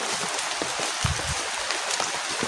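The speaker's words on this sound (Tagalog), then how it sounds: "Lakas pa rin yung ulan natin." Heavy rain pours down steadily and loudly nearby, a dense unbroken hiss with a few heavier drips and thuds standing out now and then.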